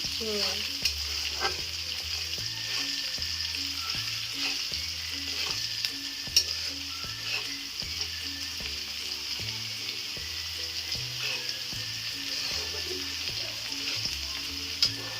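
Green chillies fry in a pan for tadka dal, giving a steady, fairly quiet sizzle with faint stirring and a low rhythmic hum in the background.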